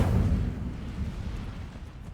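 An Incendio fire spell in a Hogwarts video game goes off as a single loud whooshing burst that flares at once and then fades into a low rumbling tail.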